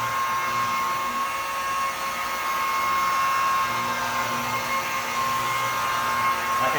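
A polishing machine fitted with a black pad buffs the paint on an Impala SS, giving a steady, close, unbroken whirring drone with a faint high tone throughout and no talking.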